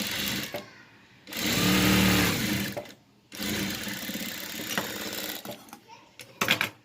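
Sewing machine stitching two layers of fabric placed one on top of the other for a face mask, running in several short whirring bursts with pauses between, someone talking during the gaps.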